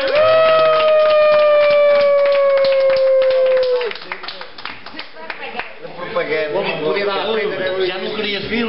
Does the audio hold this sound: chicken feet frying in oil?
no